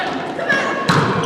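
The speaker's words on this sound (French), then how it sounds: "Cléa Sirois a réussi une frappe d'un angle difficile" A single sharp smack of a volleyball being struck in a women's under-21 match, close and punchy, arriving near the end beneath an excited voice.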